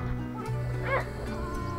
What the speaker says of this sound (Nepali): भाइहरूको बाख्रा टन्नै रहेछ है